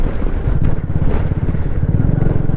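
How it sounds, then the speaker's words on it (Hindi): Strong wind blowing across a mountain road near Leh in Ladakh, roaring and buffeting into the microphone with a low rumbling engine-like drone throughout, loud and close. "यार ऐसी हवा चल रही है, मानोगे नहीं।"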